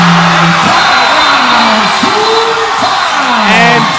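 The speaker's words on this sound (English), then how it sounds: "difficult to hear the ref's whistle over the roar of the crowd" A crowd at a college basketball game roars continuously and loudly, with whoops and yells rising over a dense wall of noise.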